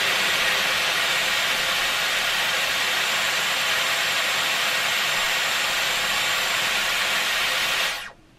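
A Dyson Airwrap hair styler blowing air while curling hair, a loud steady broadband whoosh with a faint high whine, running unbroken for several seconds before abruptly cutting off.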